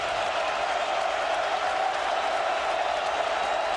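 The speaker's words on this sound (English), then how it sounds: "And now the crowd coming to life." Football stadium crowd during Notre Dame versus Michigan State in 2008, a steady broad roar of cheering from a large distant crowd, unbroken and even throughout.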